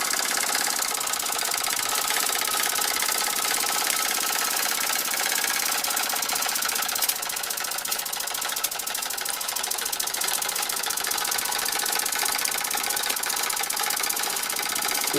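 A 1905 Fritz Neumier antique toy engine drives a doll water well and worker figure, giving a steady, fast mechanical clatter and whir that stays even and close throughout.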